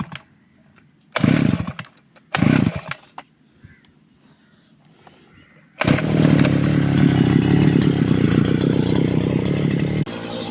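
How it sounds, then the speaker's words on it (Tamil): A ribbon-fitted brush cutter clearing weeds: two short revving bursts, then the engine settles into a loud, continuous whine as the blade cuts, close to the microphone. "அதனால வந்து இப்போ பிரஷ் கட்டர வச்சு எப்படி நம்ம கட் பண்ணுறோங்கிறத பார்க்கலாம்."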